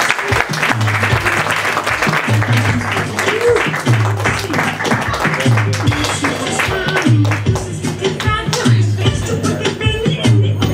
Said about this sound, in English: Everybody, make some Christmas cheer for Jim Henson, why don't you?